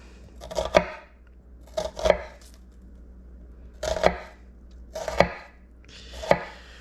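A knife that needs sharpening chops food for Moroccan couscous on a board, with five separate clusters of firm, close cutting thuds and short pauses between them.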